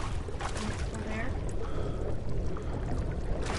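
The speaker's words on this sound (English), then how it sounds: "I can still hear the water." Sloshing, pouring water in the horror video game Amnesia: The Dark Descent, a continuous wet churning at moderate loudness with brief splashes, mixed with a voice talking over it.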